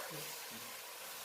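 Chickpeas and mashed potatoes go into a hot pan for chana masala and hiss with a steady, close sizzle. Faint voice-like tones show under the frying.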